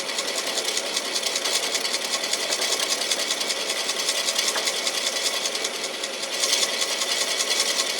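A turning tool cuts slowly into a large cedar vase blank spinning on a wood lathe, producing a continuous buzzing, chattering whir that stays steady and fairly close for about eight seconds with no voices.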